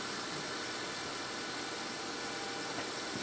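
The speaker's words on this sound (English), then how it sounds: "now that I've closed the door and the engine is running" A car engine idling steadily, a continuous low hum and hiss that stays constant throughout, fairly quiet and close, with no talking.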